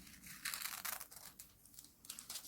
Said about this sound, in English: I find the best thing for cutting foil is a large pair of sharp scissors